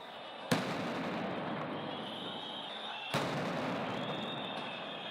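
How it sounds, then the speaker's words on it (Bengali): Police sound grenades going off during a street protest crackdown: two sharp blasts a few seconds apart, each followed by a sustained roaring wash of crowd and street noise, fairly distant. "এক পর্যায়ে সাউন্ড গ্রেনেড ও কাঁদানে গ্যাসও নিক্ষেপ করে পুলিশ"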